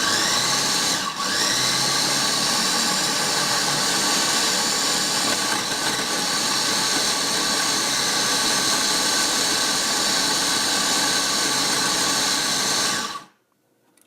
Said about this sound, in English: provided my food processor hangs in there with me for the duration.